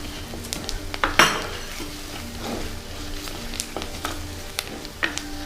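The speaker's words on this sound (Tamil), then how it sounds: "அகப்பையால் நல்லா கிளறி விடுங்க" A ladle stirring turmeric, chili, masala and pepper powders through a Sri Lankan chicken curry base, with repeated scraping and clinking against the pot over a steady sizzle. Nearby and moderately loud, with irregular metal knocks and no talking.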